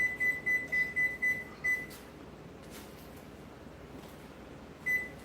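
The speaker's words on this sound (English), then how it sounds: "I'm going to set my timer so that I don't forget." A kitchen timer being set for oven baking gives a run of six quick, evenly spaced bright beeps, then one more beep a few seconds later, in a quiet room.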